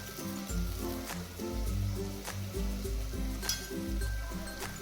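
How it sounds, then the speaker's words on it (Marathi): A masala paste frying in oil and stirred with a spatula, a steady sizzle broken by regular scraping strokes against the pan, close and fairly quiet with no talking. "तेलामध्ये परतून घ्यायची आहे उलताण्याने आपल्याला हे हलवत राहायचे आहे"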